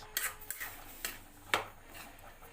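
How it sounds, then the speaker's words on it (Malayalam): A cooking pot stirred with a utensil, then covered with a lid: several light metallic clinks and scrapes at irregular intervals, closing on a sharper clank, close and fairly quiet. "ഇനി അത് വേവട്ടെ, നമുക്ക് ഇളക്കി അടച്ച് വെക്കാമേ പൊത്തി."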